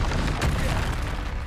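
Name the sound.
Confringo explosion spell from Hogwarts Legacy video game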